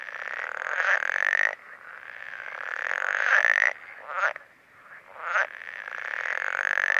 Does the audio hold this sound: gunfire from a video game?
no